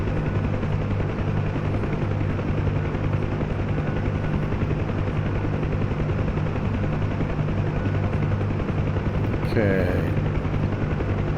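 UH-1 Huey helicopter in DCS World spinning up, a loud steady rotor and turbine drone with a rhythmic thudding beat running throughout, a brief rising whine near the end, and a short spoken word over it.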